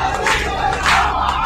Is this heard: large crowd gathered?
yes